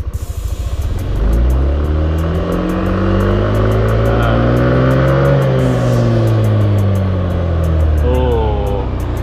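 Yamaha NMAX Neo scooter engine revved hard from idle, a loud close throaty roar rising and falling in pitch with a rapid ticking idle underneath; someone speaks near the end.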